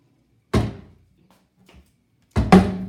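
A house's back door shuts with a solid thunk, followed after a quiet pause by a second, louder double knock of the door closing against its frame, close by in an empty room.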